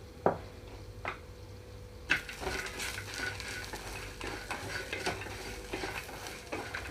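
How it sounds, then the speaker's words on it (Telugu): Onions fry in a pan for a bottle gourd curd curry, gentle sizzling punctuated by metal utensil knocks and stirring scrapes, quiet overall with no speech. "2 నిమిషాల పాటు వేగనిస్తున్నాను."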